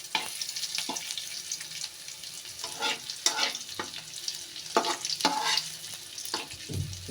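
Chopped onion hits hot oil in a small pan and sizzles, with intermittent stirring scrapes and clinks over a moderate crackle and no voices.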